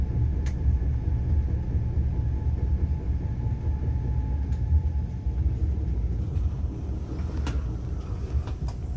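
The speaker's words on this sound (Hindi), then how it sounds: "नॉन स्टॉप हमारी ट्रेन है और देखिए स्पीड पकड़ चुकी है।" Inside a Jeddah to Madinah bullet train running at high speed, a steady low rumble and rushing roar continue without a break, with a few faint clicks and rattles in the cabin.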